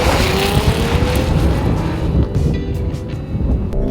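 A Lexus GX 460 V8 engine roars under hard acceleration, a loud, close, sustained drone with rising pitch and no talking over it.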